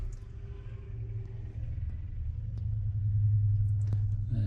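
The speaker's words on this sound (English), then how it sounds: "he seems to be just pulling off from the car park" A car pulls away from a car park near Middelburg in the Netherlands, a low engine rumble building steadily and growing louder toward the end, with no speech.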